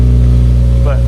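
Subaru FA20 engine in a WRX, cold-started on a dyno in a shop, running at a loud, steady, high-idle drone throughout.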